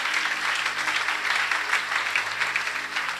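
A church congregation applauds steadily, a dense, even wash of many hands clapping, fairly close and continuous throughout with no break.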